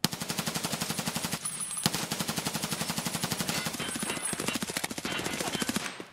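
Rapid automatic gunfire in Escape from Tarkov, loud, dense bursts of shots firing continuously with a brief pause partway through.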